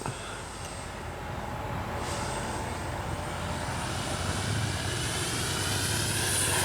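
A Flyfans Baltic Bees RC jet model aircraft flying with its gear up, giving a steady, broad turbine-like rush that holds loud and even throughout, rising slightly toward the end, with a high whine on top and no talking.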